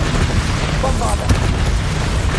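Bombarda blasting spell explosion in the Hogwarts Legacy video game: a continuous heavy low rumble of blasts with a sharper crack near the middle, loud and dense, with faint voices mixed in.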